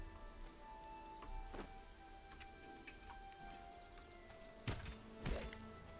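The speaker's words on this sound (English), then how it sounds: "now that the rain has really started, it's getting even really darker" Steady rainfall in the video game Conan Exiles patters on surfaces as a continuous wash, with a few louder splashy bursts late on and low ambient rumble beneath, no speech.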